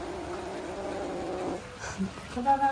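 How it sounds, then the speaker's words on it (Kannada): A cat growls in a low, steady rumble for a second and a half, then gives a few softer, shorter grumbles nearby. "ಗುರ್ರು ಮಾಡ್ತಾ ಉಂಟು"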